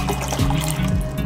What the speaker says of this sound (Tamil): இப்போ அடுப்பு பற்ற வச்சுட்டு அந்த 240 ml தண்ணியை வந்து அதில் ஊற்றிடலாம்.